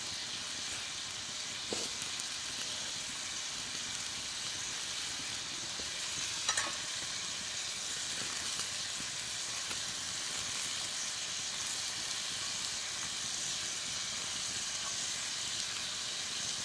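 Salmon fries in a pan on a coal stove at a rustic log cabin hunting camp, a steady close sizzle and hiss with a few faint clicks and pops, no talking.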